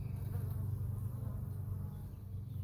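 A low, steady drone of many honey bees buzzing together inside a hive, close and continuous, without any talking.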